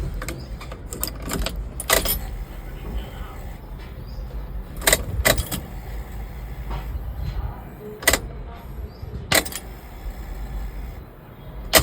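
A car key jangles and is pushed into the ignition of a Mahindra Bolero pickup, giving a string of close metallic clicks and rattles with quieter pauses between them.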